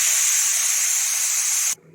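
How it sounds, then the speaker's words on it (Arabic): Rice hits a pan of golden fried vermicelli with a loud, steady sizzling hiss that cuts off abruptly near the end. "انزل عليها بقى بالرز"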